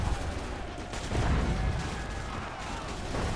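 Dense, continuous enemy gunfire and booming volleys in Assassin's Creed 3, a loud unbroken barrage filling the scene without pauses or talk.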